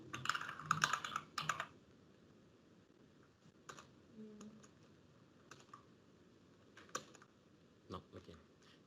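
Fingers type on a computer keyboard in scattered bursts of clicks, ending with separate single key presses such as an enter stroke, close and fairly quiet, with occasional faint voice in the background.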